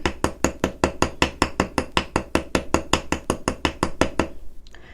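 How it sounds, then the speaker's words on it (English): A nylon hammer taps wire on a steel block in a fast, even series of about twenty sharp, close knocks, then stops, leaving near silence. "I'm going to use my nylon hammer to do that. And I'm just going to tap both sides."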